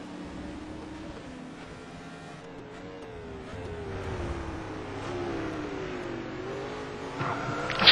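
Race cars at the Hockenheim circuit during an ETC Black Cup 2008 round, engines droning and climbing in pitch as they accelerate, loud and sustained and swelling toward the end.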